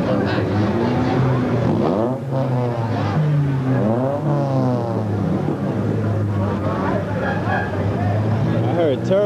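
A turbocharged street racing car accelerates hard through the gears at Hunts Point in the Bronx, its engine note climbing and dropping in repeated sweeps, loud and nearby, while people talk over it.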